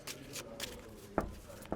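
A deck of playing cards being shuffled by hand, heard as a few quick papery riffles and brushing flicks, close and fairly quiet, with short pauses between bursts.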